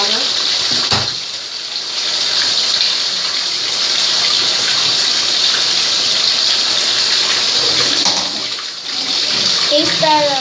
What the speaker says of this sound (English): Glass of water.